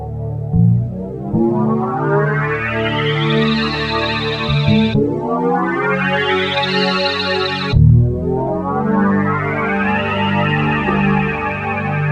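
A sustained Casio CZ-1 phase distortion synthesizer tone sliding smoothly between pitches with glide, played as three long gliding notes with rich, buzzy harmonics and a chorus-like shimmer, no voices.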